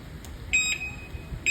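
Anti-theft alarm on an electric Vespa-style e-bike chirps in short, high electronic beeps: a sustained tone near the middle, then another starting at the end, faint over quiet background noise.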